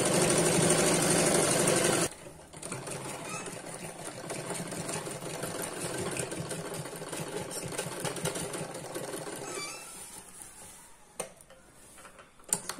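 A sewing machine stitching a six-panel petticoat runs in a loud, steady whir for about two seconds, then continues at a softer, even mechanical hum with light ticking and a few clicks near the end.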